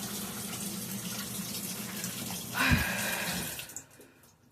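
Water flows steadily into a faulty Whirlpool washing machine's drum that is not dispensing enough water, with a brief louder gush midway before the flow tapers off.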